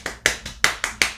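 Hands tapping a plain, unaccented right-left rhythm on the knees, six even slaps about a fifth of a second apart, close and dry, with no voices.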